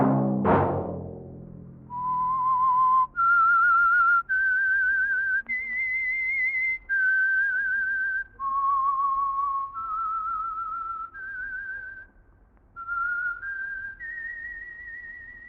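A lone whistler carries the slow, eerie theme of the old Signal Oil radio mystery drama The Whistler: a sustained melodic line of held, gliding notes rising and falling over about fifteen seconds, clear and close, after a brief low thump at the start.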